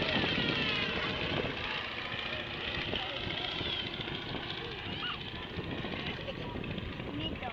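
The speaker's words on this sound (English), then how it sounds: "Lynn's just flying to altitude down to the southwest" An aircraft engine drones steadily at a distance during an RAAF flight demonstration, a continuous even roar that never fades, with a voice talking faintly over it.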